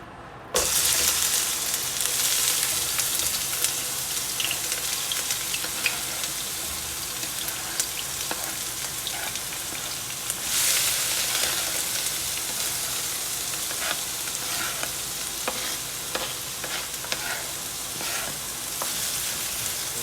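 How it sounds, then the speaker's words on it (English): Ingredients for a chicken patty filling hit hot oil and start sautéing in a steady, close frying crackle. Small pops and stirring clicks run through it for a long stretch, and nobody speaks. "We're gonna go ahead and add our ingredients to it so they could start sauteing."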